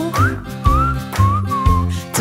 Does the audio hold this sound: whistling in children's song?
yes